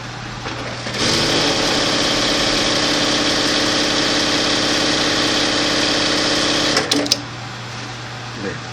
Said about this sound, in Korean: 이제 한번 패턴 스티치를 해보도록 하겠습니다